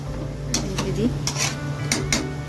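A lid is set onto a cooking pot in a home kitchen, where spices and ginger-garlic paste are cooking, with a few sharp metallic clanks over a low steady background.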